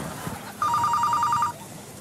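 A telephone bell rings in one loud, steady trill lasting just under a second, with a faint room murmur around it and no voices.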